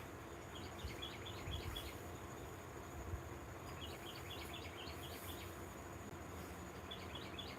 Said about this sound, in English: She hears that bird.